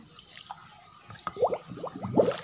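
Soil amendment being stirred into 10 liters of water for strawberry plants, soft wet squishing and sloshing strokes in a quick uneven rhythm, close and moderate, without talk.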